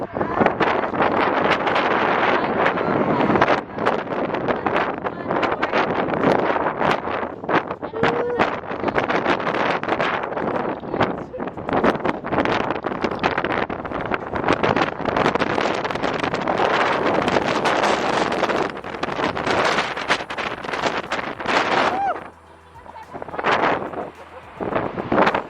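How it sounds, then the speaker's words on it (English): Strong wind outdoors near Hoover Dam, buffeting the microphone in loud, gusty roars almost without a break, easing briefly near the end. "Oh, it's still windy."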